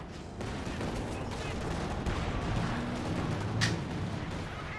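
An artillery barrage in the real-time strategy game Company of Heroes 2, heard as a dense, continuous rumble of distant shelling and gunfire with a sharper blast near the end and a commentator talking over it.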